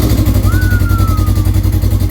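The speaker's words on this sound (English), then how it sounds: "We got to get that cold start from that GGB exhaust in the garage." Engine cold start heard through a GGB exhaust in a garage, giving a loud, close, pulsing low rumble with a rapid steady beat and a faint brief whistle over it.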